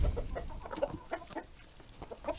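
Young Jersey Giant chickens, about ten months old, cluck in short, uneven bursts, several birds murmuring close by with no talking.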